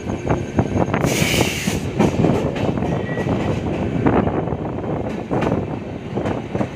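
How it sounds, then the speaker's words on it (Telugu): A passenger train on the Bengaluru to Hubli route rolls along the rails with a loud, close rumble and repeated wheel clatter, and a brief high squeal rises early on. "సో ఈ ట్రైన్ నెక్స్ట్ స్టాప్ వచ్చేసి యశ్వంత్పూర్."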